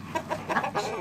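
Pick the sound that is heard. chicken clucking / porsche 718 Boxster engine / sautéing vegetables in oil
chicken clucking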